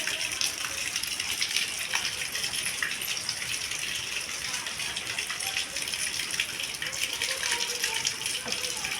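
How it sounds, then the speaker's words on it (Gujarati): Steady rushing, splashing water fills the whole stretch, a continuous wet swish as a floor squeegee pushes rainwater across a floor during a downpour. "હવે પ્રિસાબેનના હાથમાં વાઇપર આવી ગયું. હવે એ કામ કરવા માંડ્યા."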